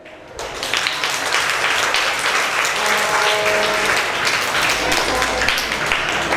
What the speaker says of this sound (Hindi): इसके लिए तालियां होनी चाहिए।